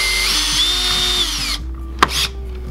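A power drill bores pilot holes into an RC Rustler chassis, whining loudly and steadily up close, then stopping and giving a short second burst.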